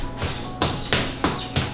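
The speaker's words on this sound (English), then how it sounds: "there's a big floor squeak on this side." Wooden kitchen floor creaking and thumping underfoot, four or five sharp knocks spaced at a steady walking rhythm, close and fairly loud with no talking.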